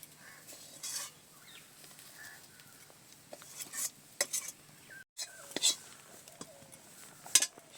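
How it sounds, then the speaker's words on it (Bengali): Fried bottle gourd goes into a pot of payesh made with gobindobhog rice. Quiet clinks, scrapes and soft stirring thuds come in bursts over a faint background, growing busier toward the end. "এবারে দিয়ে দিচ্ছি ভেজে রাখা লাউটা।"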